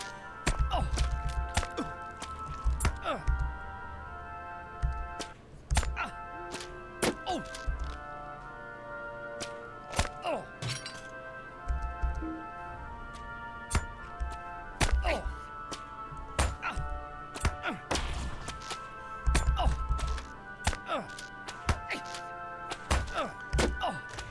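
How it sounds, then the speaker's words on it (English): Arrows from several archers striking in Lord of the Rings Online: repeated sharp thunks and whacks arriving at irregular intervals over a droning musical score, with someone talking intermittently. "I've got several archers firing at me"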